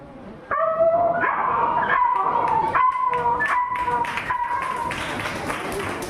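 At a school cultural competition, a human voice imitates a dog yelping after being hit by a stone, a series of sharp high whining yelps and cries that waver in pitch, close and fairly loud.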